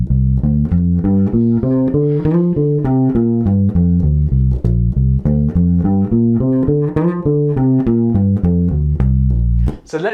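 Guitar plays a pentatonic scale exercise joining two neighboring shapes, a fast even run of single notes climbing and falling, loud and close, with no talking until a brief noise at the very end.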